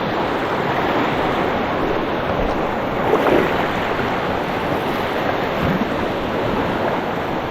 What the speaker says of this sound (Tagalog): Agos.